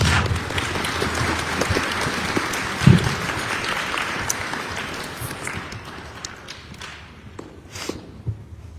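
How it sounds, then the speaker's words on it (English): Audience applause for a chief and his team at a high school gathering, a dense, steady clapping that carries for several seconds with one thud near three seconds, then thins and tapers toward the end. "Let's give them an applause."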